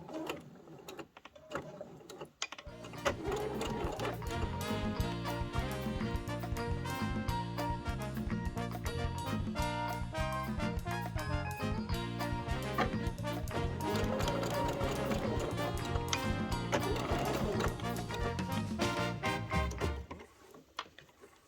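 A sewing machine backstitches along the seam of a tie, its needle chattering in a steady fast run for about eighteen seconds before stopping, close and loud with no talk.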